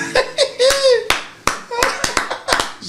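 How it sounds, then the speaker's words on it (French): A man claps his hands for himself, several sharp close claps in an uneven rhythm, mixed with talk and a little laughter. "Je m'applaudis moi-même"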